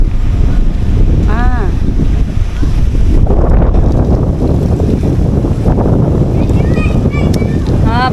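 Gusty wind rushes across the microphone in Fort Canning Park, Singapore, a loud, continuous roar with buffeting swells, while a person speaks briefly over it.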